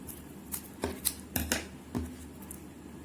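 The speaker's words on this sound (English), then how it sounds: "now take scissors and cut it out like a petal." Scissors snip through folded paper to cut a petal shape for an origami flower, giving about six crisp, close snips in an uneven rhythm against a quiet background, with no talking.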